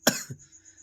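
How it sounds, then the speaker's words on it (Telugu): A single sharp cough from a woman cooking cabbage curry early in the morning, close and fairly loud, followed by a softer second throat sound and a quiet room. "దగ్గు"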